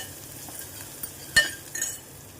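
Onion and asafoetida in hot oil in a pan for Maharashtrian masoor aamti give a soft, steady sizzle, broken by a sharp clink and a short stirring scrape, close and without talk.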